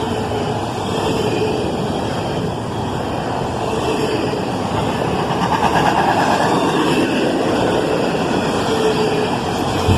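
A CSX intermodal freight train rolls past at close range, a loud, sustained rumble of wheels and cars with steady rail noise and a faint clickety rhythm throughout.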